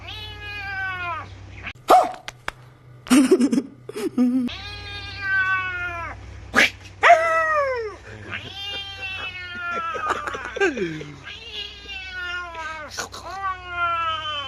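A voice imitates a cat fighting a dog, with a run of loud, close, drawn-out meows and yowling caterwauls broken by sharp harsh bursts.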